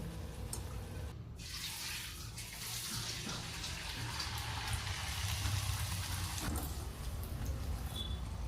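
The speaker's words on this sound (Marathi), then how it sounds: "हे बघा आता आपली पुरी टाकलेली आहे तेलामध्ये" Sweet potato puris frying in hot oil, a steady bubbling sizzle that runs throughout at moderate volume with a faint voice at times.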